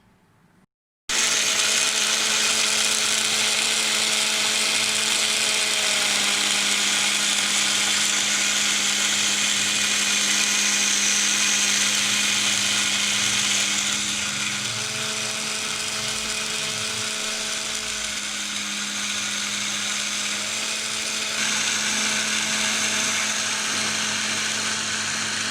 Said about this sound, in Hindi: एक गिलास जितना मिल्क डालेंगे और अब हम इसको अच्छी तरह ग्राइंड कर लेंगे।